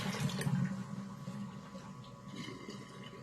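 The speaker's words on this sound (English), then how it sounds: "I'm going to dump this water out." Hot water dumped out of a freshly sterilized glass jar into a kitchen sink, a faint steady gush that is strongest at first and then tapers to a softer trickle, with no voices.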